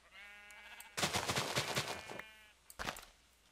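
A sheep in the plains of the Minecraft video game lets out a short, clear bleat, followed by a louder, rougher bleat and a brief final one, alone and close.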